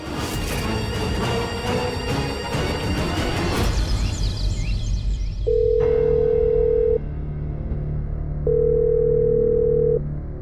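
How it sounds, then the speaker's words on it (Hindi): A phone's ringing tone buzzes in two long steady bursts with a gap between, unanswered, following a busy stretch of background music and noise. "ये औरत फोन क्यों नहीं उठा रही है?"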